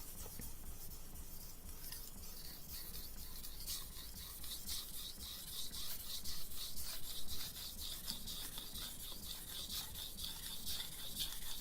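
A chef knife is polished on a whetstone with light hand pressure, giving a steady close rubbing and scraping hiss that continues without break for the whole stretch.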